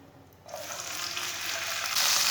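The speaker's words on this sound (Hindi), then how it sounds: "सौंगी को थोड़ा सा ब्राउन कर लेंगे, ऐसे ऐसे चम्मच चलाते हुए ब्राउन करना।" Semolina browning in hot oil in a pan, stirred with a spoon; a steady close sizzle that jumps louder after a quiet start and keeps building, with no talking.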